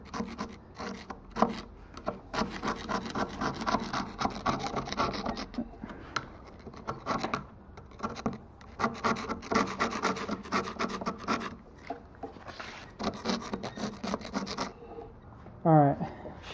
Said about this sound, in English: It's probably not a good idea to scrape it a ton, scratch it up with this